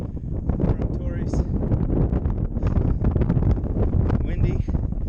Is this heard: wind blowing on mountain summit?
yes